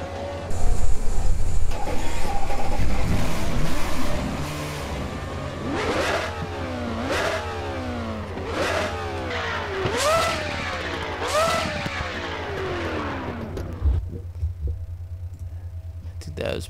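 Race car engine in RaceRoom Racing Experience revving repeatedly, a series of loud rising-and-falling sweeps after a dense opening roar, with a voice speaking at points over the engine.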